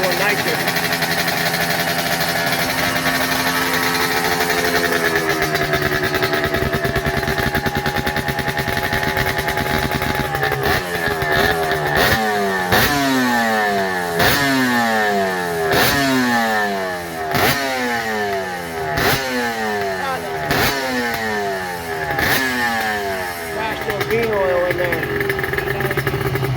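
A motorcycle engine idles steadily up close, then is revved again and again in a regular rhythm of rising and falling bursts, loud and continuous.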